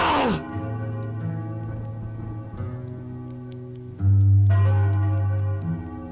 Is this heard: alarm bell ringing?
yes